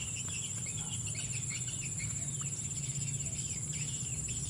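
A recorded swiftlet call played for swiftlet farming, a continuous stream of high, thin chirps and twittering tones repeating steadily at moderate level, with no talking.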